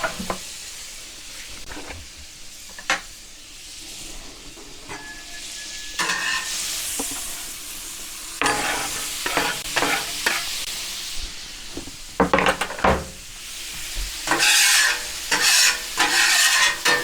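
Onions cook on a Pit Boss Ultimate Griddle, giving a steady close sizzle punctuated by spatula scrapes and stirring clanks that grow busier and louder toward the end, with no talking.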